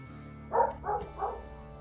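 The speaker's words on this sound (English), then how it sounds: "Trying to look at the mic, see how much noise the dogs are making on it." Dogs in a room bark three times in quick succession, loud and close to the mic, over a steady low electrical hum.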